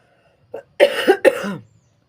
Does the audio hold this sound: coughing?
yes